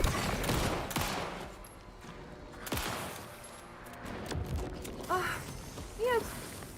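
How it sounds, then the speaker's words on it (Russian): Gunfire in the horror video game Alan Wake 2: several sharp shots spaced a second or so apart over a dim background, with a few brief mechanical clicks and chirps near the end. "Я сколько в него уже пуль выстрелила, блин, а?"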